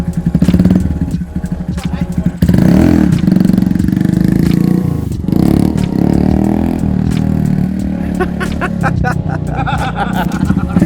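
A motorcycle engine runs loudly at a tuning garage in Tokyo, a rough, uneven rumble with surges and revs, close by, while clatter and background voices mix in throughout.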